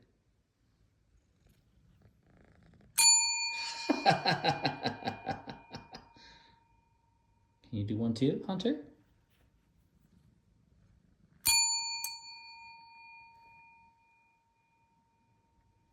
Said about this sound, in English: You guys are squishing the bell.